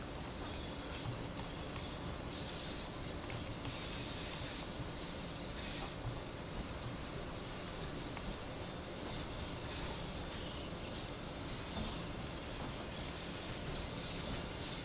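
An Amtrak train runs steadily in Train Sim World 2, a continuous loud rumble of wheels on rails with faint squeals and a constant mechanical hum throughout, no voices.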